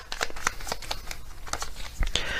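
Tarot message cards being shuffled by hand, a series of soft crisp riffles and slaps repeating irregularly, fairly quiet and close with no talk.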